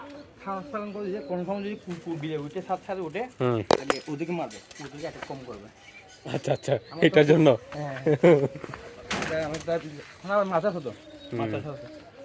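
Pigeons coo at a bird market among chickens and ducks, their soft calls heard close but largely under loud conversation between people, with occasional light clinks.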